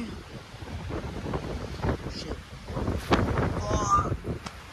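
Strong wind buffets the microphone at a cold campsite, rumbling in uneven gusts while people talk nearby.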